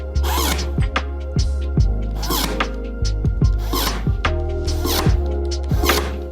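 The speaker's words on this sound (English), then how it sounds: "I am just going to staple it on this right here," A Ryobi USB Lithium 4-in-1 stapler on its light-duty setting fires staples into paper towel: a run of sharp mechanical snaps and clacks, roughly one per second, close and loud with no talking.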